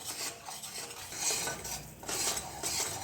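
A spoon steadily stirs flour roasting in ghee in a pan for Gujarati sukhadi, giving a continuous scraping, rustling sound close up with no voices.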